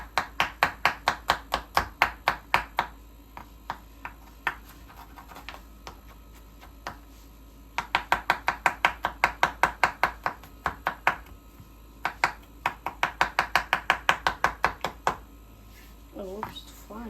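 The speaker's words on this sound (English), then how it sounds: "I'm gonna chop it up." A knife chops garlic on a cutting board in rapid, steady runs of sharp knocks, with brief pauses between runs. The chopping is close and clear, and a voice talks over part of it.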